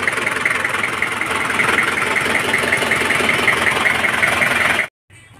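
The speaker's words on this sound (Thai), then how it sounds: "นี่ครับเครื่องยนต์สตาร์ทอยู่ก็ประมาณนี้นะ" Single-cylinder Toyota Hero pickup engine idling steadily after a start, a close, continuous rattling drone with a mid-pitched knocking rhythm, cutting off abruptly near the end.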